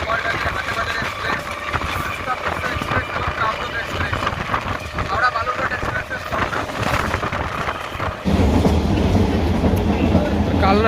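Inside the coach of a Katwa local train from Howrah, a steady rumble and rhythmic clatter of wheels fill the carriage, growing louder and heavier toward the end, while a voice talks over it.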